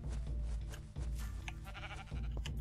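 Sheep bleat in the video game Minecraft, repeated calls mixed into a dense, steady bed of game music and sound effects.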